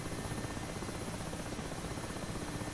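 A Mi-8 Hip helicopter in the DCS World flight simulator drones steadily and loudly with a dense, constant rotor and engine roar, unchanging over the few seconds.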